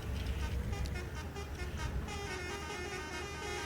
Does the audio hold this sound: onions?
no